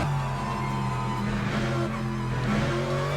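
A Mercedes race car in the racing game Le Mans Ultimate drones steadily through a qualifying lap, its engine tone shifting between higher and lower pitch with faint tyre noise, no talk.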